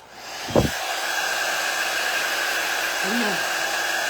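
A hair dryer blows with a loud, steady whoosh while drying a mixed-media craft banner, with a brief knock near the start and a short vocal sound partway through.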